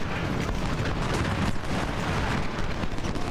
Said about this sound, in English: I will order all artillery